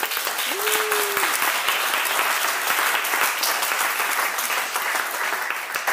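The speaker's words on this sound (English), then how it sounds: "Please give them a round of applause." Loud, dense audience applause at an evening presentation, a continuous roar of many hands clapping at an even level throughout, with no talk over it.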